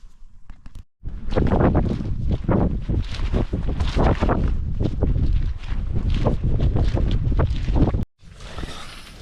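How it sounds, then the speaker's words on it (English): Strong wind gusts roar and buffet close to the microphone at night during a wet winter wild camp on Stanage Edge in the Peak District, sustained and loud with a brief lull near the end. "the wind sort of picked up, and it's just been sort of, I don't know, really aggressive gusts and then nothing and then aggressive gusts"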